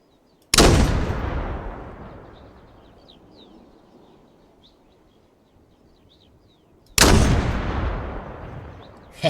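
Two heavy mortar blasts in a military shooter game, each a sudden loud boom followed by a long rumbling decay, spaced several seconds apart, with faint distant chirps in the quiet between.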